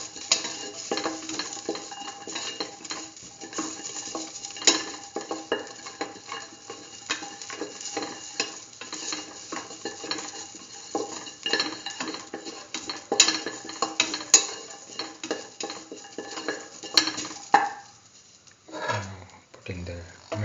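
Garlic and green chili frying in a pan, stirred steadily with a utensil that scrapes and clinks against the metal under a constant close sizzle, with a brief clatter of cookware near the end.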